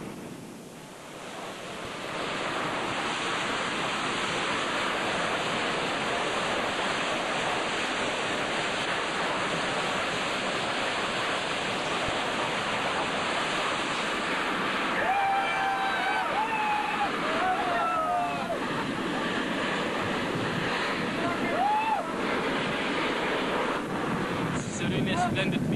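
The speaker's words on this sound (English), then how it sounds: "He directs all water streams to be concentrated on the fire simultaneously" Water streams from several hoses sprayed together onto a burning oil well in Kuwait, a loud continuous roaring hiss lasting the whole stretch, with faint distant calls or whistles rising through it near the end.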